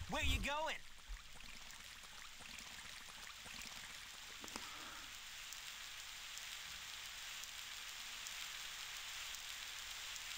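Steady video game rain from Sonic Adventure on Dreamcast patters and hisses across surfaces after a brief burst of game sound, with a voice speaking faintly at the start.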